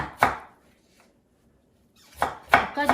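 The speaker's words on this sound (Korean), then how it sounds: "채도 마찬가지로 일정한 굵기대로 채를 썰어서" A knife cuts radish into even julienne strips on a board, with one sharp chop, a quiet pause, then a quick cluster of three or four close, crisp chops.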